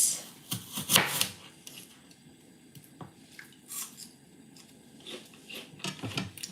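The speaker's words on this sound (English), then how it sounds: "I'm gonna cut it into slices like this" Knife slicing through fresh fruit on a cutting board in a home kitchen, a few soft, wet cuts and squishy taps at close range, with quiet handling sounds in between and no talking.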